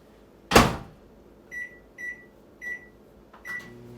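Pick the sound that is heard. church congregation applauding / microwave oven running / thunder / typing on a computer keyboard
microwave oven running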